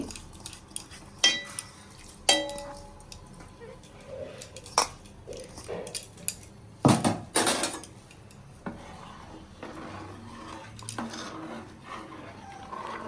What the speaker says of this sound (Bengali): আমি চালটা দিয়ে দিচ্ছি দুধ গরম হয়ে গেছে চাল দিয়ে দিচ্ছি